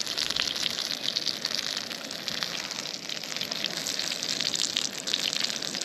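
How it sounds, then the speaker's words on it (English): Cheeseburgers sizzle in a pan on a gas stove at a wild campsite, a dense, steady crackling hiss close by that runs without a break and without talk. "It sounds like the sizzling's coming from over here."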